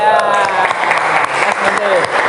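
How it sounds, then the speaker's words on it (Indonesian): Applause for the top scorer of a post test in an automotive engineering class, a steady patter of hand claps from a small group that fills the whole moment at close range, with some voices mixed in. "Tepuk tangan dulu ya."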